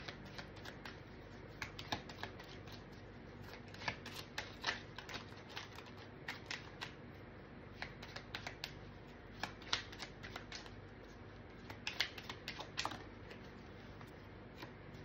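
Tarot cards being shuffled by hand, faint repeated crisp riffles and taps in irregular bursts against a quiet, steady background.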